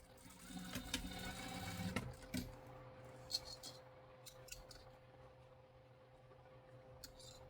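A household sewing machine stitching fabric: a quiet, rapid mechanical whir for a couple of seconds, then softer clicks and handling sounds as the cloth is adjusted, with a steady faint hum underneath.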